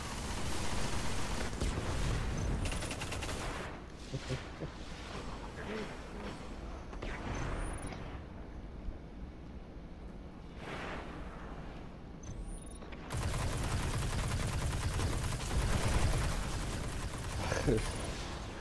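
Video game gunfire heard in repeated bursts of shots and impacts against a dense, busy game soundtrack, with a person talking at times over the action.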